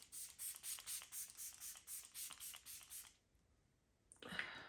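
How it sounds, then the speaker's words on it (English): A rapid series of short, bright bursts of Benefit setting spray misted onto a face close by, about a dozen quick pumps, then a pause and one final longer hiss. "I'm just going to quickly set my face with my Benefits Professional Setting Spray."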